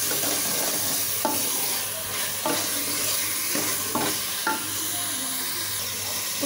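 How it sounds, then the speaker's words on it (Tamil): Steady frying sizzle of chicken in masala with a few soft scraping stirs at regular intervals, close and continuous, with no talking. "இப்போ இந்த சிக்கனை இந்த மசாலாவோட நல்லா வதக்கிக்கலாம்."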